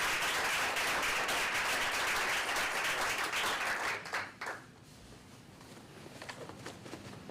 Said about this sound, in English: One more round of applause for our honorees.